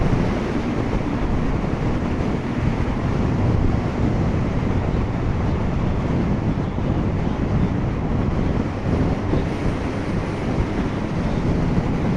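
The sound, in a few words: gust of wind on a bike ride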